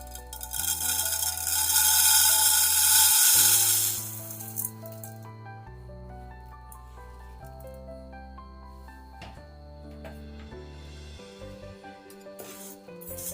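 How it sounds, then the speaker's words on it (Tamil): Rice roasting in a hot kadai for traditional puffed rice sweets, a loud dry rattling hiss for a few seconds while being stirred, then quieter with faint scraping over background music. "இப்போ சிம்லே வச்சு அரிசி நல்லா பொரி மாதிரி ஆகிற வரைக்கும் கிளறி விடுங்க."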